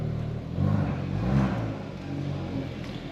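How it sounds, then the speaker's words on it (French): A 275-horsepower Hyundai i30 N Performance engine runs nearby at a throaty idle, with two brief revs lifting the rumble before it settles back to a steady burble. "Je vais vous montrer également démarrage sans clé sur le véhicule."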